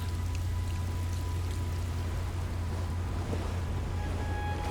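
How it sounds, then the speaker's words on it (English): Rain falls on the open deck of a boat at sea, a constant close hiss of drops over a deep steady rumble, with no voices. "It began to rain on my face."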